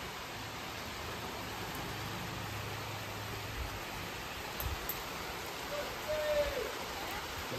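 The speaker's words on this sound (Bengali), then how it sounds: "কিন্তু দেখো সেকেন্ডের মধ্যে বৃষ্টি নেমেও গেছে" Rain arrives suddenly outside a house under construction, a steady broadband wash of falling water with a low rumble early on and a few faint bumps near the end.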